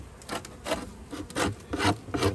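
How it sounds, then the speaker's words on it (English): A scraper drags across covers to remove gunk, producing five or six slow, rhythmic rasping strokes close by and moderately soft, with brief pauses between strokes. "kind of lay this down carefully here and start scraping."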